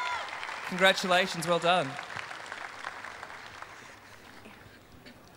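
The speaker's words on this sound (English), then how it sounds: "Round of applause for them, guys" A crowd applauds a student group after their Rock Eisteddfod school dance performance. The clapping is moderate and continuous beneath a voice speaking in the foreground, then tapers off gradually.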